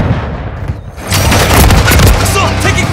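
Gunfire in Call of Duty: Modern Warfare 3, a loud booming burst of rapid shots after a brief quieter lull, heavy and close, with game voices mixed in.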